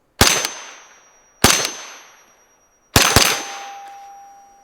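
Three single shots from an FN P90, each a sharp loud crack with a ringing metallic tail, spaced about 1.3 seconds apart, the last pair close together.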